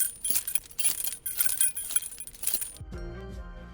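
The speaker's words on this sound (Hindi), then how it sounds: "चाबियों की धातु की झनकार आश्चर्यजनक रूप से टकराते कवच की आवाज जैसी होती है" Car keys jangled as Foley for clashing armor in a historical army battle scene: repeated bright metallic shaking and clinking for nearly three seconds, close and loud, ending in a short ringing fade.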